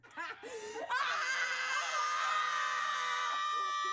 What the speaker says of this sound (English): A tradition to go outside or walk up to your window and scream.